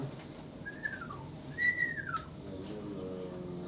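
A voice imitates a parrot with two short rising-and-falling whistles, heard fairly close over a low background murmur of a gathering.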